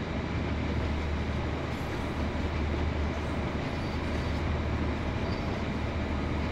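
A Class 150/2 diesel train engine in the video game Train Sim World 2 drones steadily on the West Cornwall line, with a deep rumble and rattling rail noise, constant and loud throughout.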